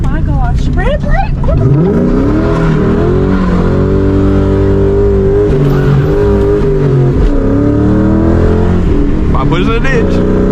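A 2004 Ford Mustang GT with a short shifter installed revs and accelerates loudly, its engine tone rising and holding in a strong, sustained roar while people talk over it.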